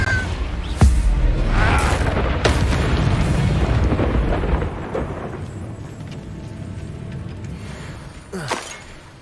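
A Confringo fire spell in Hogwarts Legacy bursts with a loud deep boom and rumbling blast, followed by crackling debris that slowly fades, with another sharp impact near the end.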